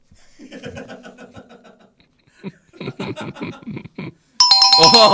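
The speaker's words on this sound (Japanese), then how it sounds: "携帯の着信音が木魚" A mobile phone ringtone that sounds like a mokugyo wooden fish drum, a bright ringing burst that starts abruptly at the end, after laughter and lively talk on a TV variety show.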